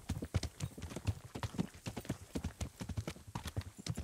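Horse hooves pound in a quick, steady galloping rhythm in the video game Kingdom Come: Deliverance, clear and close, continuing throughout.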